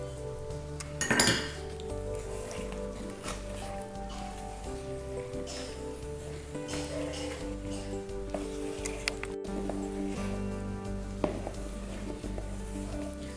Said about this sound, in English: And now we're going to add the milk in slowly and mix that in.